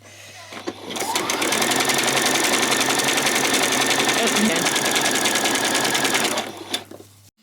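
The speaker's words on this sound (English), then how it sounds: "I am going to just do a zigzag all the way around" A sewing machine running a zigzag stitch, starting up after a brief pause, then a steady, fast mechanical whir held at constant speed for about five seconds before stopping, with a faint low hum underneath.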